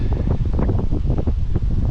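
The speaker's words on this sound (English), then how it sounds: "I'm sure you can hear the wind," Strong wind on a stormy day in Lubec, Maine, buffets the microphone in steady, rumbling gusts, loud and close throughout, with no voices.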